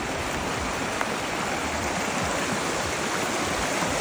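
River water flows in a steady, dense broadband rush with no pauses, close and fairly loud, filling the whole stretch without voices.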